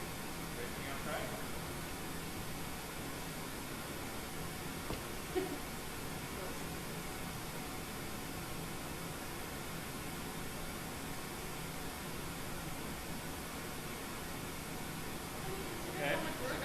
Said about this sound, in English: go ahead and turn off pink noise for a second